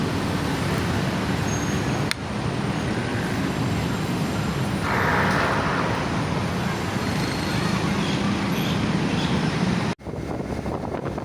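Street traffic flows through Bangkok, a steady roar of many cars and engines passing on a busy road with no horns sounding, plus a brief lighter hiss midway and a couple of sharp clicks.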